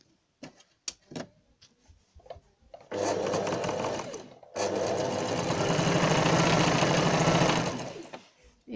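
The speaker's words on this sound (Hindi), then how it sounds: "अब इसको मैं सेविंग करूँगी।" A sewing machine stitches a double-layer fabric face mask for kids, with a few soft clicks and handling noises first, then two long runs of rapid, steady mechanical whirring close by.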